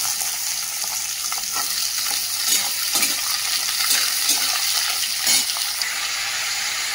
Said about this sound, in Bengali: সবজিটা তো ভাজা হচ্ছে